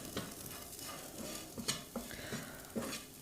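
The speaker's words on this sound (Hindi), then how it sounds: "मैगी मसाला हमें लास्ट में डालना है और इसको अच्छे से भून लेना है" Maggi masala being stirred and roasted in a pan: a close, soft sizzle broken by repeated scraping strokes of a spoon against the pan, with no talk.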